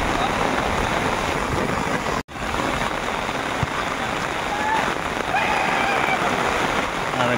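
Steady heavy rain pours across an open football ground in Power Colony, Ropar, a dense continuous hiss close by, with a brief break and faint voices and distant traffic underneath.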